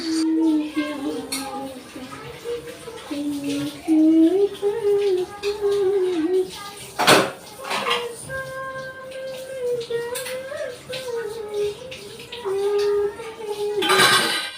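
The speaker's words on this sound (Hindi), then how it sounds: "मैं बर्तनों को वॉश कर रही थी" Dishes, pots and pans being washed at a home kitchen sink in the evening: steady clatter and running water throughout, under a woman humming a tune.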